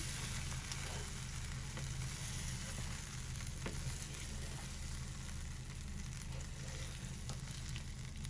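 Chicken masala with added milk for a white shahi murgh curry, sizzling steadily as it is mixed in the pot: an even, continuous frying hiss over a low background hum, with faint stirring scrapes. No speech.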